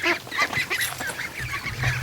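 Young Muscovy ducklings feeding on weeds in their new pen give rapid, close peeping and honking calls in a continuous chattering stream.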